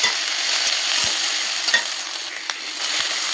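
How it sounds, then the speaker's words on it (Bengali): Fish roe fries in a pan with radhuni and ginger paste, stirred steadily; a close, loud sizzle runs throughout with a few soft scrapes of the spoon. "ভালো করে ভেজে নিচ্ছি মাছের ডিমটা"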